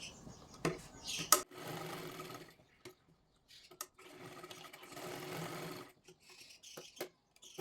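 A sewing machine stitches tucks into a blouse in short, quiet, uneven bursts of whirring with pauses between, fairly faint and with no one speaking.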